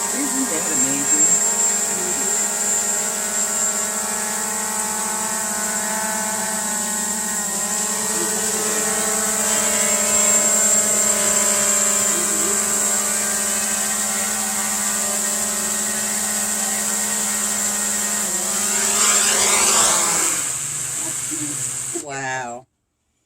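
A DJI Mavic Pro 2 drone flies close by at Eagle Creek, Oregon, its steady high-pitched rotor whine and buzz continuing loud throughout before cutting off at the end.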